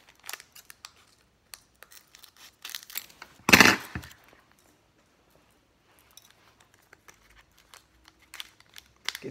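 Scissors snip and crinkle through the foil wrappers of Pokémon card packs, with small scattered clicks and rustles and one sharper, louder tear close by in a quiet room.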